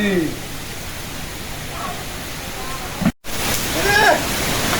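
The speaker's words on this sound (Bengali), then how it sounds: "ঝড় বৃষ্টি শুরু হয়ে গেল" A sudden rainstorm begins outdoors near an open-air cooking spot, with a dense, steady rush of heavy rain and wind that fills the scene as people talk over it.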